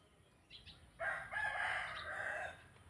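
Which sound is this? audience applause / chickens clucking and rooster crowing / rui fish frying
chickens clucking and rooster crowing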